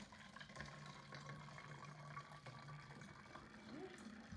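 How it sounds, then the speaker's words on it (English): Ordinary tap water runs steadily into a plastic bottle being filled for a calming bottle craft, a soft continuous watery stream with a rising pitch toward the end as the bottle fills. "So the first thing we're going to do is fill up our bottle,"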